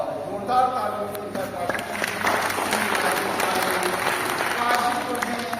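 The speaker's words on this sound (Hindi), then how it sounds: "और जोरदार तालियों से" An indoor crowd at an annual organizational executive meeting breaks into loud, sustained clapping that fills the room, with a voice carrying on over the applause.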